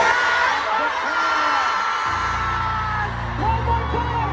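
Concert crowd at a world tour kickoff shouting a chant in unison after a countdown, a loud massed roar of voices that swells partway through and holds under a continuous wall of cheering.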